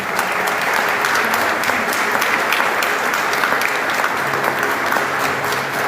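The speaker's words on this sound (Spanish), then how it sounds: "denle un aplauso al Señor" A church congregation gives loud, sustained applause at a worship service, with dense clapping that holds steady throughout and a murmur of voices underneath.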